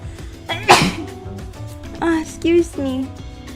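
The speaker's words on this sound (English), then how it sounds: "I feel the need to sneeze" A single sharp sneeze bursts out close to the microphone indoors, followed by a person talking.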